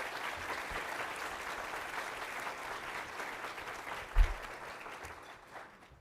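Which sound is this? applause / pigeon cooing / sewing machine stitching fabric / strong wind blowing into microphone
applause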